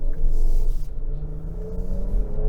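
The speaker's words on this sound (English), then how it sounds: "The engine on this is a rocket." A 2025 Lincoln Aviator luxury three-row SUV accelerates from inside the cabin, its engine giving a loud, steady low rumble with a rising tone and no voices over it.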